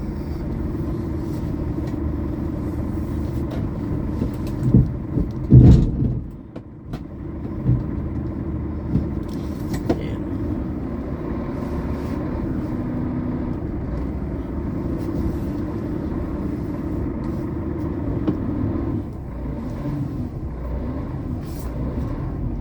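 A heavy cement mixer truck engine idles with a low, steady rumble on a truck scale, briefly swelling louder and then settling back to a constant drone.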